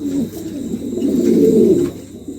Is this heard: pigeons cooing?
yes